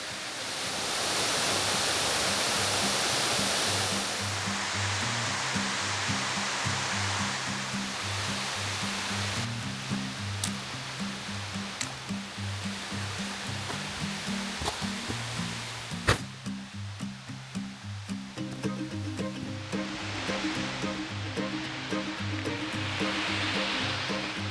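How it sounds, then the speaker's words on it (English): Waterfall in Bankhead National Forest, a constant broadband roar of falling water that stays dense and steady throughout, with no voices and only a few faint clicks and knocks on top. "got the falls behind me"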